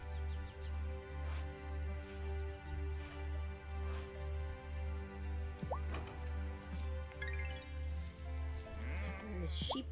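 Sheep bleating in the video game Wylde Flowers, a few short bleats over a steady looping game music background with a pulsing low beat.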